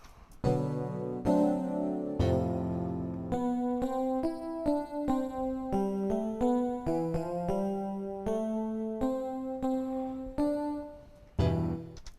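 A sequence of bell-like tones from a Roland D-05 synthesizer rings out one after another, each struck note sustaining and overlapping in a slow melodic run.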